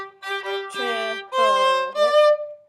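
A violin plays a short melodic phrase of sustained, slurred notes, close and clear, with no talking.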